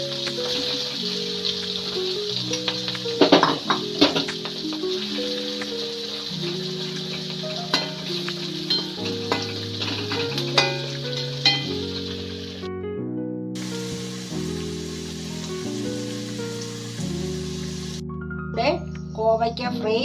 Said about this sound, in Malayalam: ഇനി നമുക്കത് കുറേശ്ശെ ഇട്ട് വറുത്ത് പോരാം.